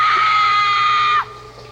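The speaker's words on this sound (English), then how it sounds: "I heard the blood-curdling scream of my girlfriend." A woman lets out a loud, sustained blood-curdling scream that holds steady at close range for over a second and then cuts off abruptly, leaving a quiet tail.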